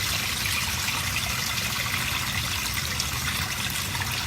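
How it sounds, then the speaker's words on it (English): Steady trickling water runs from two basement drain pipes, a constant broadband flow without pauses and no talk over it. "See, we got water flow coming from both sides."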